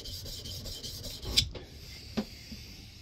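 A scrub plane blade bevel is honed on a fine sharpening stone: faint, quick rasping rubs at close range, followed by a couple of light isolated scrapes in a quiet room.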